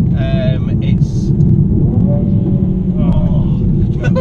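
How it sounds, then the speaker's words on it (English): Mercedes-AMG C43 twin-turbo V6 with a 9-speed automatic, heard from inside while driving: a steady, loud low engine rumble throughout, with people talking over it. "It's just got so much character to the sound of this V6."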